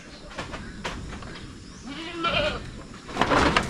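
A goat bleats once, a short wavering cry close by, amid soft rustling and background noise.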